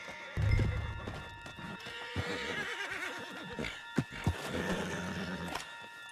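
A horse in the video game Red Dead Redemption 2 whinnies loudly at the start, followed by snorts and a few hoof clops, with a faint musical background.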